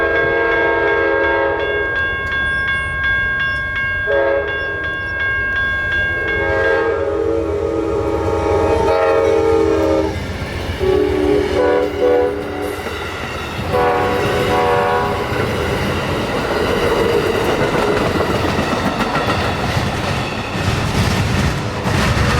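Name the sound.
train passing with horn blowing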